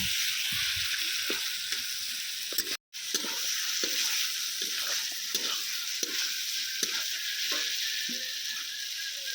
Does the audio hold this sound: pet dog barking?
no